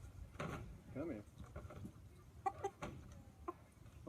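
Chickens clucking in a fair poultry show barn, short close clucks and squawks scattered among handling noise and background chatter.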